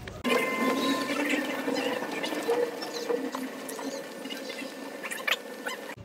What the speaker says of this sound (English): go ahead and loosen up the palm pad by grinding it out like this